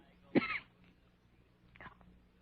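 A single faint cough, followed after a pause by a softer second cough, quiet and close in an otherwise still room.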